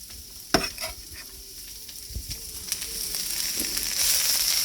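Ingredients for homemade chili are stirred and tossed in a pot with oil, scraping and clattering in bursts over a low sizzle that builds toward the end.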